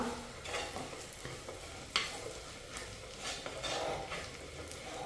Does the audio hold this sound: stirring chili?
yes